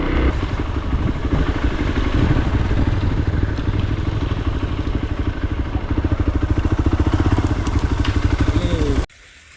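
A motorcycle engine runs loudly and steadily close by, its rapid throbbing pulse unbroken until it cuts off abruptly near the end.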